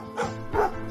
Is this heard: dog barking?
yes